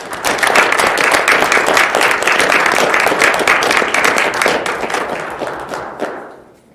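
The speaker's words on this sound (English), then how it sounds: "So let's give one last round of applause." Audience applause at a school board meeting, a loud, steady burst of many hands clapping near the microphone that tapers off over about seven seconds.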